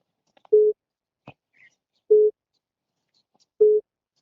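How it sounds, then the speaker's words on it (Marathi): A telephone busy tone gives three short, identical beeps spaced evenly about one and a half seconds apart. It is clear and alone, with silence between the tones. "आपण डायल केलेला नंबर सध्या व्यस्त आहे"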